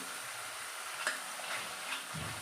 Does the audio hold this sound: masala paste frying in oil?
yes